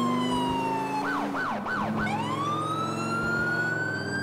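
Police siren wailing in the GTA IV video game as a state trooper cruiser responds code 3, with a sustained wail, a burst of fast yelp sweeps mid-clip, then a rising wail over steady engine noise.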